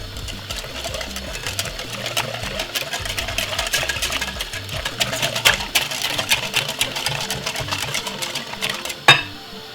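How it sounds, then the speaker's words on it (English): Cornmeal porridge with coconut milk and whole milk is whisked briskly, a rapid steady whirring rattle against the pot, close and continuous, ending with a single sharper knock. "Give it a whisk."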